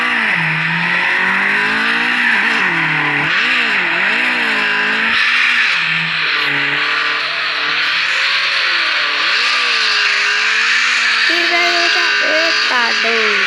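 Engine revving and tires skidding from a drift car in a video game, the whine rising and falling in pitch through repeated slides, loud and continuous, with a person talking excitedly over it.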